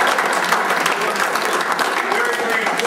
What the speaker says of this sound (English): I really want everyone to give a good round of applause to all you people for coming out tonight